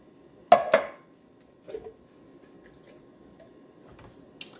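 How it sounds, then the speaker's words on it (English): Green beans tumble into a pot in a home kitchen for a casserole: two quick close clattering thuds, a softer plop a second later, then a faint scrape near the end. "take my green beans, add it to my pot"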